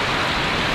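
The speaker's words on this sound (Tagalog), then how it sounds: "Oh, lakas ang ulan." Heavy rain pours down in a dense, constant hiss, loud and close, with no pauses.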